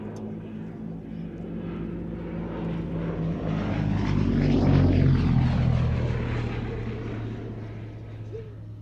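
A Gloster Gladiator biplane fighter passes at an air show, its propeller engine drone building to a loud close flyby around the middle and then fading as it departs, with no talk during the pass.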